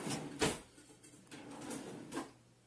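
A kitchen drawer is pulled open and rummaged for a pastry wheel while making ravioli, with a few quiet sliding knocks and clatters spread across a hushed room.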